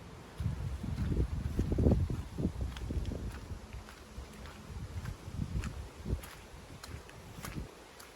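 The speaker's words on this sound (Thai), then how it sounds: "เสียงลมเสียงลม" Wind blows outdoors just after fresh rain, a faint low rumbling buffet with soft rustling and occasional light steps, steady and quiet throughout.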